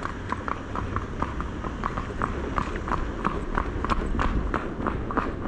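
Horse hooves clip-clop on a paved city road in a steady, even walking rhythm, close and fairly loud over low traffic rumble.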